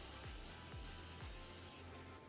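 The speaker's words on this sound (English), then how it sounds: "So I'm gonna go ahead and spray my face." Several quick pumps of a face setting spray bottle give soft misting hisses in a steady rhythm, close and quiet, then stop.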